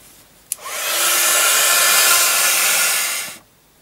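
A hair dryer drying paint on a craft piece: a click, then a steady loud blowing whoosh for about three seconds before cutting off, with no talking.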